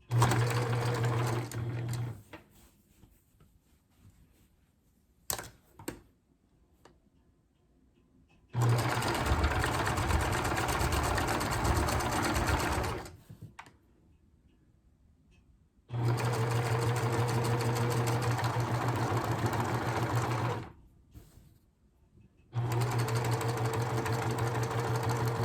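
A sewing machine stitches a Christmas throw pillow made from repurposed materials in three steady whirring bursts of several seconds each, separated by near-silent pauses with light handling noises.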